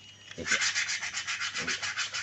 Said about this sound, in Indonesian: untuk ngamplas pelek nih, kita harus tahu untuk menentukan berapa ukuran dari ukuran amplasnya ini